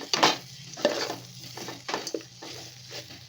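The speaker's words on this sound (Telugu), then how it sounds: "అన్నీ ఒకసారి అయితే కలిపేసుకుందాం" A spoon stirs jackfruit biryani ingredients in a pot, Andhra style, giving a handful of scraping, clattering strokes with a soft sizzle underneath and no talking.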